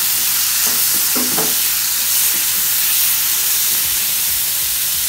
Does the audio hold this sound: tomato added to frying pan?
yes